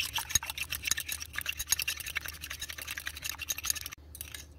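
Egg whites whisked briskly in a bowl for coating eggplant before frying, a rapid, steady clatter of whisk strokes against the bowl running close and continuous, with a brief pause near the end.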